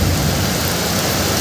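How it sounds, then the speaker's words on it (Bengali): Heavy rain pours with thunder rumbling and gusty wind, a dense, loud, unbroken roar of downpour with low rolling rumble beneath. "গত রাত থেকে আবারও তুমুল বৃষ্টি, সাথে বজ্রবিদ্যুৎ এবং ঝোড়ো দমকা হাওয়া"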